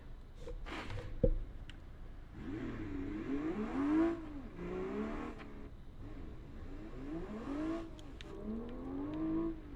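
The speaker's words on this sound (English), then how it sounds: "Let me see what this car sounds like without an exhaust on it." A car engine with no exhaust fitted, in the driving game BeamNG.drive, revs up and down in several rising and falling surges, raw and buzzy, heard fairly quietly with occasional clicks and thumps.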